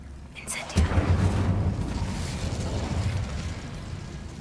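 An Incendio fire spell cast in Hogwarts Legacy erupts with a sudden whooshing burst. A deep roaring rumble follows and slowly fades over several seconds.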